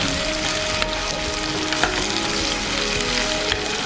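Onions sautéing in a pan for an egg puffs masala, giving a steady close-up sizzle with a few faint clicks of stirring throughout, and no talk.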